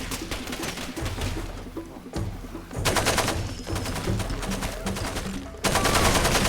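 Ammunition cooking off after a grenade blast in the video game Far Cry 2: dense, crackling bursts of rapid popping shots rattle continuously, dropping briefly then surging back louder, close and chaotic with no talking.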